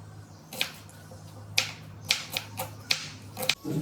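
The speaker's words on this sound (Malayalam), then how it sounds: "ബാക്കി ഐറ്റംസൊക്കെ നമുക്ക് അരിഞ്ഞെടുക്കാം" A knife chops vegetables on a cutting board in a home kitchen while a Ramadan meal is prepared. About eight crisp, close, evenly paced taps ring out over a faint steady hum.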